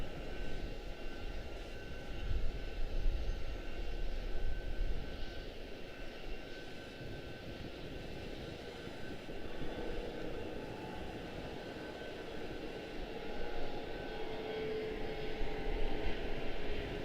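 A fixed-wing airliner at Charlotte Douglas airport, its engines giving a steady, moderately distant roar with a faint tonal whine held throughout. No voices are heard.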